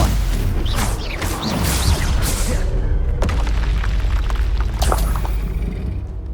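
A Stupefy spell cast in the video game Hogwarts Legacy, a loud magical whoosh into a heavy booming impact with crashing debris and rumbling game sound effects.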